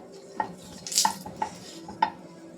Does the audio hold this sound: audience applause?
no